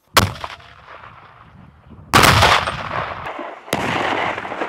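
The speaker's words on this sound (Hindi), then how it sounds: "कुछ अपनी राइफल से ताबड़तोड़ गोलियां बरसाते नजर आए" Soldiers fire weapons during a military exercise in freezing cold, with loud sharp blasts and a sustained burst of fire that echoes and rings out between shots.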